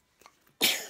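A single sharp sneeze bursts out close by, loud and breathy, following a few faint soft sounds, during an indoor painting craft activity with a child.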